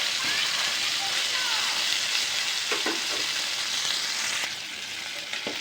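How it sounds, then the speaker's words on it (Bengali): Fish pieces fry crisp in a hot pan with a loud, steady sizzle that continues throughout, a few brief clinks of handling mixed in and a slight drop in level near the end. "একটু কড়া করে ভেজে নিলাম।"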